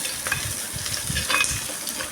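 About twenty whole garlic cloves fry in hot oil for a fish curry, giving a steady, dense sizzle with crackling bursts that carries on alone at close range.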